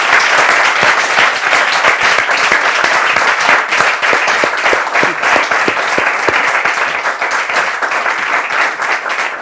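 Loud, dense audience applause in a television studio welcoming a woman guest onto the stage, a steady sustained roar of many hands clapping for several seconds with no talk over it.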